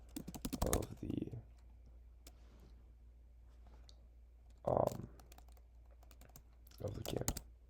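Someone types on a computer keyboard in quick bursts of soft, close clicking, with quiet gaps between the bursts, against a faint low background hum.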